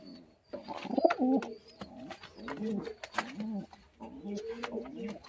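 A male white Madras pigeon coos close by in a throaty, repeated, rolling pattern, with brief pauses between phrases and a few small chirps mixed in.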